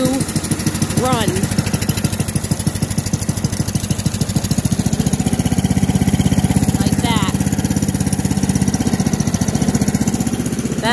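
A snow blower engine runs right after starting, close and steady. Its rapid, even putter carries through the whole stretch, with a few brief squeaky rises in pitch along the way.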